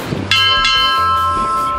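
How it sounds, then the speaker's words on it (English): The Greymouth bell rung once in Greymouth, a single clear metallic strike near the start with a bright sustained ring decaying over the following second and a half, no talking. "Alright, we're in Greymouth, so let's dong the Greymouth bell."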